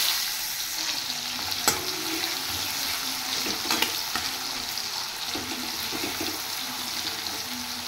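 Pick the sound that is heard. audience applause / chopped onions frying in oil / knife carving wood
chopped onions frying in oil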